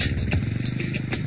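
A motorcycle engine runs steadily nearby with a low, throbbing idle and some faint clatter, heard alone.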